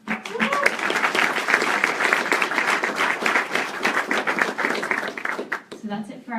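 Audience applause at a 2017 UISG inauguration ceremony, dense steady clapping filling the room for about six seconds before it thins out, with some voices mixed into the crowd noise.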